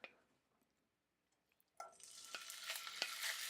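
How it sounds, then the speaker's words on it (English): Chicken pieces hit a hot pan on a new stove, a soft clatter followed by a sudden bright sizzle that builds and crackles steadily, with a few stirring knocks. "Not the sizzle I wanted."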